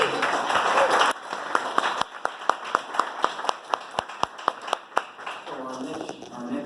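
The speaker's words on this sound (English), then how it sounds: "Can we give them a round of applause?" An audience applauds a pitch at a horror-fest filmmaking panel with a short dense burst of clapping. It thins to scattered, distinct claps, and a voice speaks briefly at the end.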